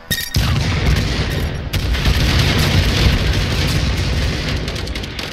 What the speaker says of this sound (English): All those explosions.